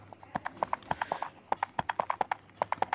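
Horse hooves clip-clopping as a soldier rides, crisp close hoofbeats in a steady, slightly uneven rhythm running throughout, with no talk.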